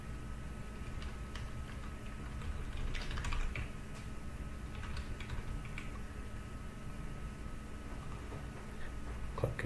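An email address being typed on a computer keyboard, heard as soft, scattered keystrokes over a steady low background hum, with no talking.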